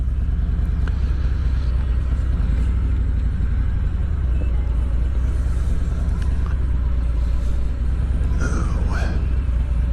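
A 2019 Harley-Davidson Ultra Classic motorcycle rolls slowly through snow, its engine giving a steady low rumble close up with slight revving, under continuous wind and road noise.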